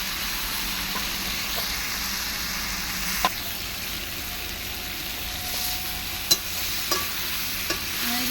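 Bottle gourd curry stirred in a pan over a wood-fired clay stove, a steady faint sizzle with a few sharp clicks of the spoon against the pan, heard alone.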